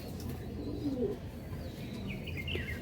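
Pigeons at a pigeon seller's loft in Hooghly, male and female birds in their stands, coo softly in low repeated phrases, with faint chirps and a little background noise and no talk.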